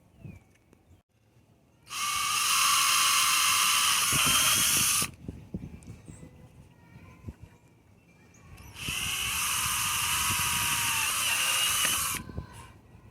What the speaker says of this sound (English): we're going to drill a pair of holes that are 3/16 of an inch in those 2 places